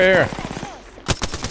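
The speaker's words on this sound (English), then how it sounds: "I'm getting shot at." Close automatic gunfire in the battle royale game Apex Legends, a quick burst of sharp shots following a brief voice, loud and punchy.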